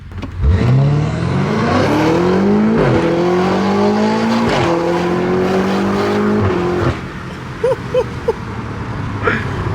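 A Mercedes car engine revs up loudly and climbs in pitch through several gear shifts, close by, then drops off into quieter idling and faint clicks.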